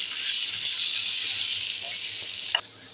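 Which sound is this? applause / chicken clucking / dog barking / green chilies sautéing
green chilies sautéing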